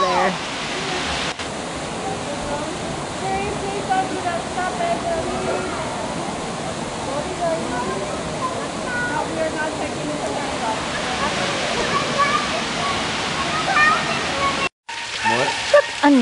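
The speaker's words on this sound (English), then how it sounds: "A secret hidden waterfall." Waterfall at Old Man's Cave, a steady, full rush of falling water close by with constant broadband roar, and a brief dropout near the end.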